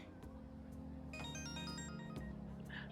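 A phone ringtone in the video game Persona 5 Royal plays a short melodic electronic chime over steady game background music, moderately clear.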